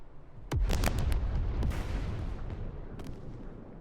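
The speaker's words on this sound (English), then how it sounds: "Random background explosion." Explosions and gunfire rumble in the background of the WWII tactical wargame Second Front, a sharp burst of blasts followed by deep booming and rolling rumble, with a few later cracks.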